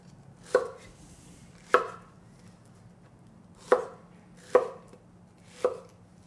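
Knife chopping mushrooms into cubes on a cutting board, five crisp, separate knocks spaced unevenly over a few seconds, close and clear against quiet.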